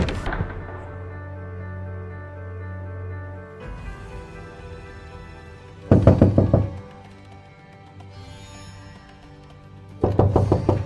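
Loud, hurried knocking on a room door comes in two bursts of rapid thuds several seconds apart, against a quiet background with no talk.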